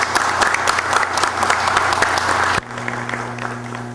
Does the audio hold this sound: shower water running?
no